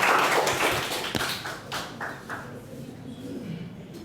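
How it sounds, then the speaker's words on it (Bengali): Students clap in a university lecture hall: a brisk burst of sharp claps that quickly thins out and fades over a few seconds, with some voices underneath. "ওটা জোরে হাততালি দাও"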